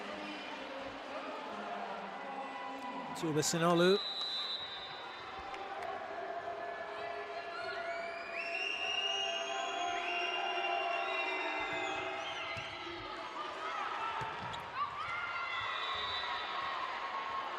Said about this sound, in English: And a big cheer for her.